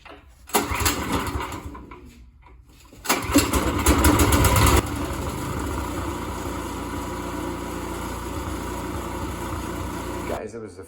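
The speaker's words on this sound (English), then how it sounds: "it was the first time in over 8 years that this machine has been running" A snowblower engine that had not run in over eight years cranks and sputters, catches with a loud burst, then settles into a steady, close idle that runs on until it cuts off near the end.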